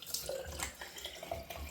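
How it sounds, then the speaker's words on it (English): Cold tap water running into a sink for a rinse, a steady splashing flow with small drips and bright spatter, fairly quiet and heard alone. "We're going to go for a rinse off actually."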